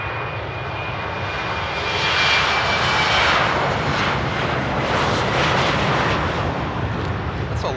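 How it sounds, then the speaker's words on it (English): An Embraer E190 jet roars through a long takeoff roll at Amsterdam Airport, a loud, steady engine rumble that swells to a peak midway and holds with a broad hiss before easing slightly. "That's a long takeoff roll for an E190 though."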